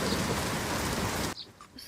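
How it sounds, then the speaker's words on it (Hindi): Heavy rain pours down in a dense, steady roar, then cuts off abruptly near the end, leaving a few faint scattered sounds. "उसके कुछ ही देर बाद बहुत तेज़ बारिश होना स्टार्ट हो गई"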